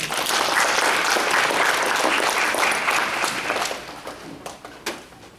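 An audience at a parents' information session on school admissions and English education claps steadily and densely, then the applause thins into a few scattered claps and fades out.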